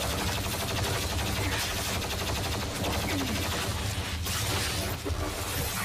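Chain gun firing in DOOM Eternal, a dense, loud, continuous stream of rapid gunfire with blasts and crashes layered throughout, sustained at steady intensity with no talk over it.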